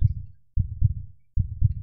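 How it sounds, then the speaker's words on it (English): Slow, steady heartbeat pulses, each a low double thump, three beats close and loud with no talk over them, evoking the dead man's heart in The Tell-Tale Heart. "You heard the sound of a heartbeat."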